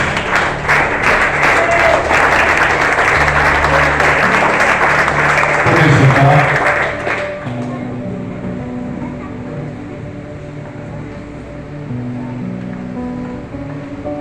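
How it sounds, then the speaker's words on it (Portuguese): A church congregation applauds loudly and steadily for several seconds during an evening deliverance and healing service, then the clapping fades into a quieter room tone. "Pode aplaudir a palavra de Deus"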